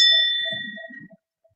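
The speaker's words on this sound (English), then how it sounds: "This is the second bell, but the first prostration." A Zen temple bell is struck once during a service, giving a bright metallic ding that rings and fades over about a second, with faint low knocks as it dies away.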